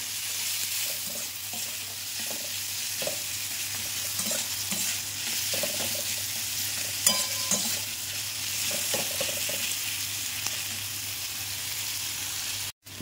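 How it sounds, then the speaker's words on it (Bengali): Chopped onions hiss in hot oil with turmeric, salt and green chili, with steady close sizzling and the repeated scrape of a spatula stirring the pan throughout. "তেলটা গরম হয়ে গেছে, দিয়ে দিলাম পেঁয়াজ, কুচানো পেঁয়াজ, আর দেখো হলুদ আর নুন আর কাঁচা লঙ্কা। এটাকে ভালো করে ভেজে নিতে হবে।"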